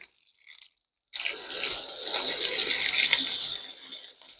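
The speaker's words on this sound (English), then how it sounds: "I'm gonna try and turn this on and see if I can get the water pump over here running for you." Solar-powered off-grid water pump, fed by a rain catchment system, sending water out of a nozzle: after a faint click and a short silence, a strong, steady hissing gush starts and runs close and loud for several seconds.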